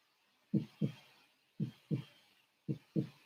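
A heartbeat thumps in steady lub-dub pairs, three double beats spaced about a second apart, low and close with quiet between them.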